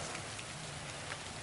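Steady rain falls on an outdoor fish farm with rainwater-collection tanks, a continuous soft wash of drops at moderate volume with no voices present.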